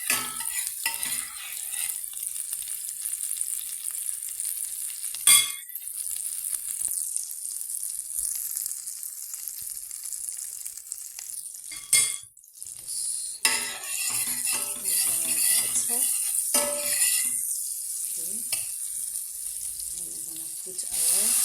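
Butter melting and sizzling in a frying pan while savoury screws with shrimps and diced bacon are made, a steady hiss running throughout with occasional utensil clinks and a person talking over it.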